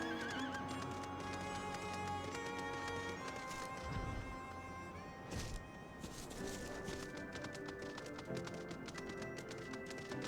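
A horse mount in the Final Fantasy XIV video game gives a loud, clear whinny, and hooves clip-clop in quick taps around it. Game music plays faintly beneath the sounds.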